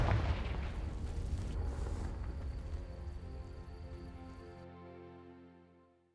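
A Confringo spell blast in Hogwarts Legacy: a loud, rumbling explosion that starts strong and slowly decays over several seconds into a fading low roar.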